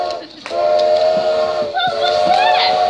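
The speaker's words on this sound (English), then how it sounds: "What was that? A train." Train sound effect played during a live outdoor cowboy show at Blackgang Chine, with rumbling rail noise and rising whistle-like tones throughout, under crowd ambience and brief voices.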